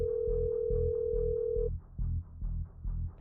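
A phone call goes out with a steady tone that stops partway through, over a throbbing pulsed beat. Loud and close, with no one speaking.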